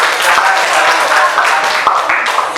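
A classroom audience clapping after a student group's presentation on political globalization, a steady patter of many hands at close range with voices mixed in.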